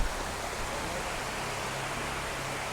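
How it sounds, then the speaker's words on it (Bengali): The Kumari waterfall at Thanchi in Bandarban gives a dense, steady roar of rushing water, broadband and unbroken, heard close with no voices. "এই দেখুন কত সুন্দর ঝর্ণা"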